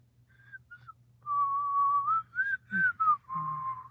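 A person whistling a short, wavering tune with breathy gaps and some sliding pitches, close and fairly soft, alone with a low background hum.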